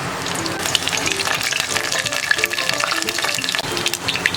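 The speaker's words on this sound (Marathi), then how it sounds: "स्लो गॅस ठेवला आहे आणि लसूण आपण व्यवस्थित भाजून घेऊया" Crushed garlic frying over low gas in oil in a pot, a continuous close crackling sizzle with busy bright pops throughout.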